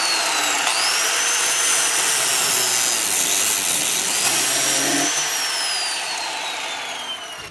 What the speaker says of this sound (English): I'm just going to have to cut this link off.